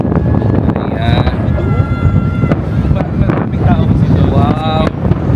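Strong gusts buffet the microphone in a loud, continuous low rumble during New Year fireworks in Manama, Bahrain, with people talking and faint whistling tones over it.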